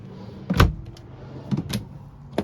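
A drawer under an RV trailer's dinette slides and bumps in a few quick knocks and rattles, with a sharp clunk near the start and softer thuds after, close by and without talk.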